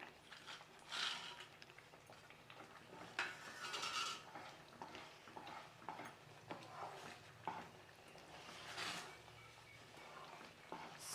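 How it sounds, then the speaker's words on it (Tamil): A spoon stirring a sweet ukkarai mixture with ghee in a pan, soft scraping and clinking of utensil against metal in irregular strokes, fairly quiet and close. "இப்போ இதெல்லாம் நல்லா கலந்து விட்டுட்டு"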